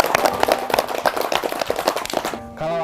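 Children clap their hands in a quick, dense burst of applause that runs for over two seconds, then stops abruptly, giving way to a brief held tone.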